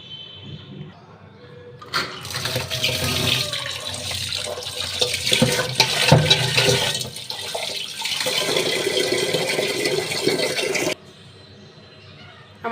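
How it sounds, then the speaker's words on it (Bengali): Tap water runs steadily while rice is washed for cooking in a home kitchen, a continuous broadband rush lasting around nine seconds that stops abruptly near the end, with faint handling sounds before and after. "ভাত বসার জন্য চাল এখন ধুয়ে দেব"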